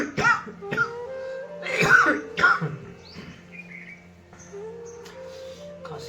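Several coughs and throat-clearing sounds come during a throat massage exercise, with short bursts in the first half and quieter vocal noises afterward, close and fairly loud.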